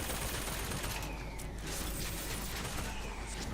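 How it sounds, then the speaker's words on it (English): Dense, continuous gunfire from an allied character in BioShock Infinite, a loud steady wash of rapid shots and crackling blasts with no pauses and no speech. "he will now shoot anyone who comes towards him, like he's doing now"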